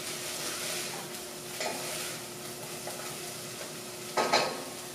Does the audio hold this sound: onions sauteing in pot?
yes